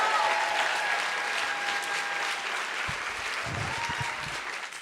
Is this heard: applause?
yes